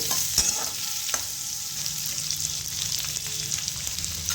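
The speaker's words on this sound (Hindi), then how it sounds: "प्याज को चला लेंगे।" Thick-cut onions are stirred in hot oil, giving a bright steady sizzle with occasional scraping knocks of the spoon against the pan, close and clear with no voices.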